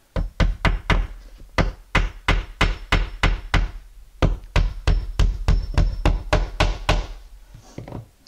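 Steady hammer blows driving a nail into a wooden wall stud, about two dozen sharp, close knocks in quick regular bursts with a brief pause midway.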